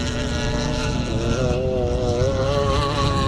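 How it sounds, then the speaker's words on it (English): A Bultaco motorcycle races in a classic motocross event at Strathaven, Scotland: a steady, loud engine drone whose pitch rises and falls as the rider works the throttle, with constant wind and background noise. "But it's still Derek McCauley on the Bultaco"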